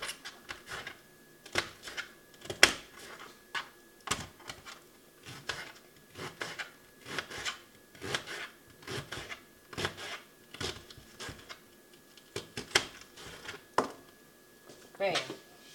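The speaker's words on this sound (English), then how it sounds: "Now I'm going to cut some onions up." A knife chops onions on a cutting board in a steady series of sharp, close taps and thuds, alongside a person talking.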